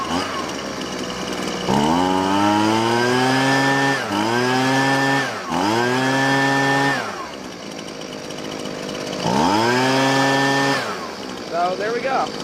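A Husqvarna 125B handheld leaf blower's small two-stroke engine revs up and down in several surges after a carburetor adjustment, loud and close, dipping back to idle between bursts and running slightly unevenly.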